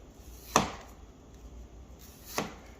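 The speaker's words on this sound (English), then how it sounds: "So this is usually how I cut my onions and try to get everything out nice and long." A sharp knife slices through onions on a board: two distinct crisp cuts, each a quick crunch with a knock, separated by a short quiet pause and heard up close.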